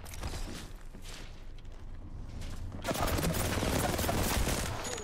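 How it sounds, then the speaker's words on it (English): Rapid gunfire from several shooters in an Apex Legends-style battle royale firefight, dense overlapping bursts that swell louder midway and keep rattling nonstop, with faint voices now and then underneath. "They're getting shot at by multiple people."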